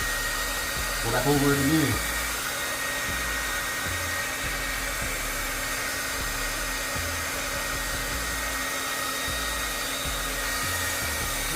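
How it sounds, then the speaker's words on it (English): Heat gun blowing hot air onto stickers on a Hellcat tire: a steady, loud broadband rush of air that runs the whole time, with a short spoken remark near the start. "Grab that heat gun."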